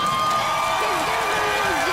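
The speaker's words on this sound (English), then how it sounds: "Where's my applause?" Cheering and applause from a talk show studio audience, a dense continuous crowd roar with whoops running steadily through the whole moment.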